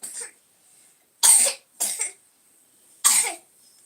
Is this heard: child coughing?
yes